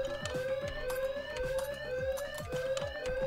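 A wailing, siren-like electronic alarm going off in a prison-escape stealth video game, repeating fast pulsing tones over a steady beat, loud and continuous throughout with no talking.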